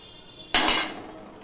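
A metal lid is set onto a cooking pot of dal with one sharp clank, followed by a short ringing rattle that fades out in a quiet kitchen.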